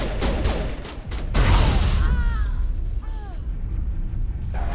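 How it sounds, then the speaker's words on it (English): A grenade blast in Mass Effect Legendary Edition erupts loudly near the start, a rumbling burst followed by lingering debris and whining tones as the noise settles, with no talk over it. "I was hoping to hit them all with one grenade, but I was not that lucky"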